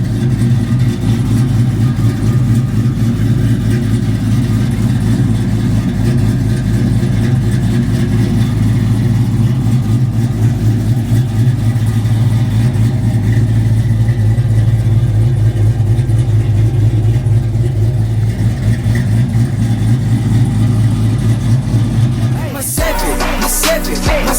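A 1978 Chevy engine rumbles loud and close, revving in a steady low growl as the car drives off, then cuts off abruptly near the end.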